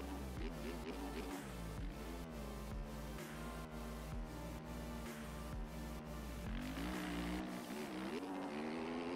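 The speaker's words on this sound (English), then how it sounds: "I'm barely revving the bike." A motocross bike in the video game MX Bikes, at an ARL supercross round at Daytona, revs with a buzzing, rising and falling engine note broken by rhythmic cuts and blips, fairly steady and loud.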